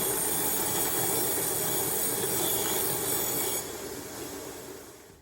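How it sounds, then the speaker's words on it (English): A new belt sander grinder runs steadily with a loud, continuous abrasive roar and rasp, then fades and winds down near the end. "got to use my new belt sander"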